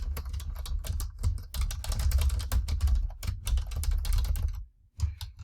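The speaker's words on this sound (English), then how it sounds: "So you see how I'm typing this username in here?" Rapid clicking of keys on a computer keyboard as a username is typed, a quick steady patter close by with a brief pause near the end.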